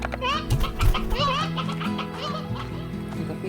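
Chickens cluck and squawk close by in the farming video game Slime Rancher, a burst of chattering calls over a steady background hum, fading toward the end.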